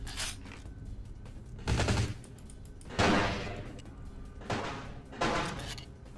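Gunfire in the video game Vampire: The Masquerade – Bloodlines, a handful of heavy bursts and sharp shots spaced a second or so apart, loud and punchy over a steady background.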